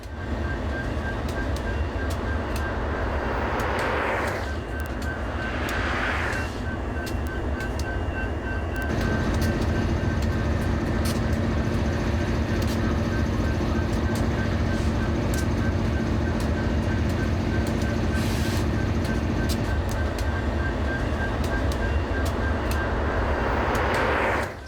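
A track renewal train creeps slowly while laying railway track, a loud continuous mechanical rumble with a steady tonal hum, some swelling whooshes and clanks, sustained throughout.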